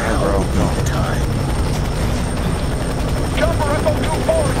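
Helicopter in the video game Fear 3: a loud, constant rotor roar filling the whole stretch, with radio voices talking over it.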